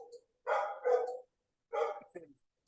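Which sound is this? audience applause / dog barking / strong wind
dog barking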